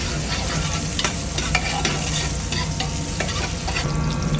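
Garlic fries in hot oil in a pan for a Filipino shrimp guisado, a steady close sizzle broken by repeated scraping stirs of a utensil, with no talking.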